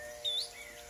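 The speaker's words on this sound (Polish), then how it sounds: "Ale jak ci tu ptaki pięknie śpiewają" A single faint, brief high chirp from a bird rises over quiet outdoor background hum near trees by a forest hut.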